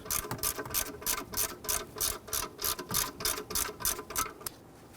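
A socket wrench ratchets off a bolt on the power steering pump of a 2007-2014 Cadillac Escalade 6.2L V8, giving a quick run of rhythmic metallic clicks in close, repeated bursts that stop near the end.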